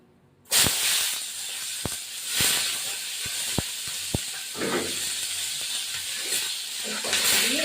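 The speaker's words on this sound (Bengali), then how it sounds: "মাংসের মেটে রান্না করবো এবার পেঁয়াজগুলো ভাজা করব" Onions frying in a pan while goat liver curry is cooked: a loud, steady sizzle starts abruptly and carries on, broken by a few sharp pops and clicks.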